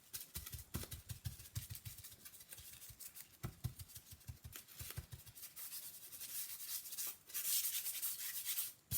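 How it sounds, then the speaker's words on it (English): Tissue paper rubs over copper leaf on a clipboard, a soft, close, papery swishing in uneven strokes with a few light taps, quiet and without talk. "I'm gonna burnish it with that piece of tissue"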